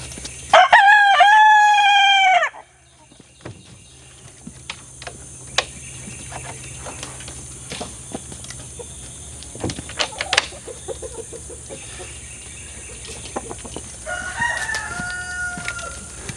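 A rooster crows loudly nearby, one long cock-a-doodle-doo, followed by scattered soft clucks and clicks, then a fainter second crow.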